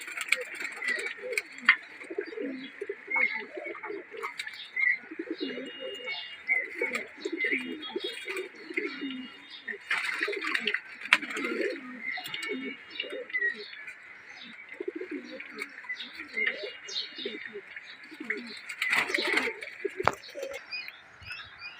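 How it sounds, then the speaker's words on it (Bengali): Female pigeons and young birds cooing repeatedly while bathing, throaty rolling coos in an almost continuous sequence, with higher chirps, wing flutters and water splashes mixed in. "কবুতরগুলো অনেক সুন্দর করে গোসল করতেছে মাদিগুলো।"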